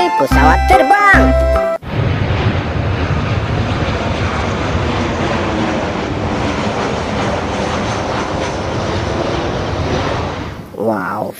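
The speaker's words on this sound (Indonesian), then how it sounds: "pesawat terbang" A toy airplane gives a loud, continuous engine drone like a propeller plane, running steadily for several seconds after a brief burst of electronic tones.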